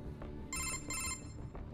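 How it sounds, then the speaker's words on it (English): Metal Gear Rising: Revengeance codec phone call ringing, two short bursts of a bright electronic ring tone over a steady low game rumble, moderately loud. "Perfect time for a phone call."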